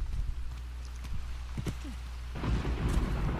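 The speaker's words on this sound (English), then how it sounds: "It's thundering now." Thunder and steady rain in the video game Uncharted: The Lost Legacy, a low rumbling ambience that swells into a heavier, louder downpour partway through.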